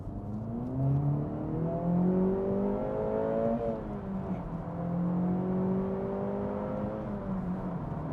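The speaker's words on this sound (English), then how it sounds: "It's much louder than the Civic Type R, and that's mostly because of the exhaust." An Acura Integra Type S hot hatch accelerates hard, its exhaust note rising steadily in pitch through the gears with a brief dip at a shift, loud and close, with no talking.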